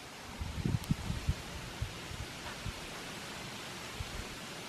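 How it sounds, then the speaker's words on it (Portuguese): Gusty wind sweeps across a home backyard on a cold autumn afternoon, a steady broad hiss with soft low buffeting thumps against the microphone and faint leafy rustle, no voices. "Começou a ventar de novo."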